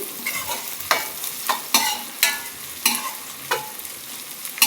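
Carrot, curry leaves and green chilies stir-fry in a pan, a soft steady sizzle punctuated by about eight sharp, regular scraping strokes of the spoon, close and unaccompanied by speech.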